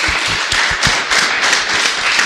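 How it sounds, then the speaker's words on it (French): Audience clapping at a live podcast recording, a dense, close burst of hands applauding at a steady level throughout the short stretch. "Je suis à deux doigts de demander à ce qu'on applaudisse un peu ce qu'il dit"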